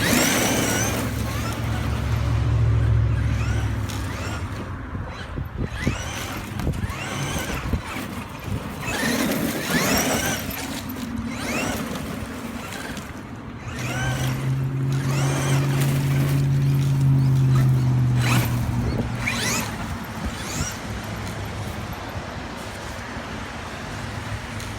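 A Traxxas Xmaxx RC monster truck runs outdoors, its electric motor whining and rising in pitch during bursts of driving, with tire and road noise and rattles over a long stretch.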